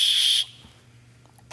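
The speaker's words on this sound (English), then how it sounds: "super special because it has a safety whistle." A shrill safety whistle built into a utility belt buckle gives one short, loud, piercing blast up close, then silence, then the start of a second blast at the very end.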